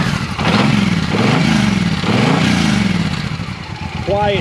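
A Suzuki M109 motorcycle idles on its quiet stock 2-in-1 exhaust, giving a steady, low rumble that runs the whole time beneath someone talking.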